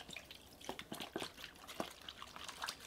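A jersey is swished by hand through a basin of water, giving soft, irregular sloshes and drips close by, with no talking.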